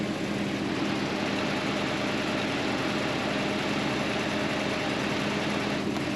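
An engine with worn-out engine mounts idles steadily while warming up, a low, even hum and faint vibration, unchanging for several seconds, no voices.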